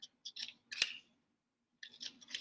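Scissors snip through paper for a paper hyacinth flower craft, a few close, crisp cuts in two short bursts separated by a brief pause.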